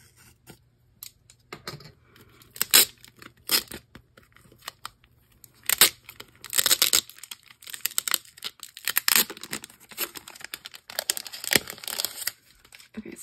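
Giant stickers are peeled from a package during an unboxing: close, crisp tearing and crinkling rustles in irregular bursts with quiet gaps between, and no speech.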